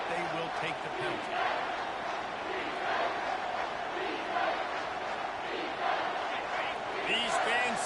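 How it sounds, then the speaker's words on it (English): A packed stadium crowd at a Ragin' Cajuns vs Michigan football game roars steadily on third down, a dense, loud, continuous wall of cheering that swells slightly in waves. "with this place rocking, the crowd forces a false start"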